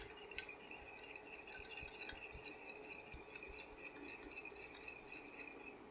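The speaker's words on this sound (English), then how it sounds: "We are just going to add a little vanilla to our yolks. And then just give that a mix." A utensil stirs vanilla into egg yolks in a bowl for a keto ice cream base. It makes a steady, close, whisking clatter that goes on without a break.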